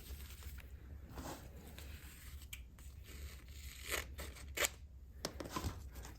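Scissors snip through Leuko athletic tape during foot taping, a few soft crisp cuts and tearing rubs at close range, quiet and without talk.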